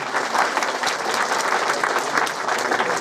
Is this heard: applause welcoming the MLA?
yes